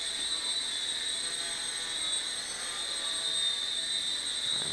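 A Sky Viper X-Quad quadcopter drone flies indoors, its propellers giving a constant high-pitched buzzing whine that stays steady and fairly close for several seconds with no talking.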